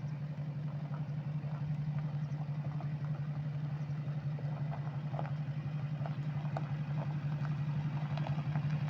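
A Chevy Silverado 2500 HD Duramax diesel towing a Bighorn RV trailer idles steadily, with a low continuous engine hum and faint ticks and clatter above it and no talking.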